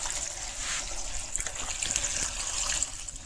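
Water poured over freshly cut taro stolons to wash them, a steady close hissing trickle and splash that runs without a break.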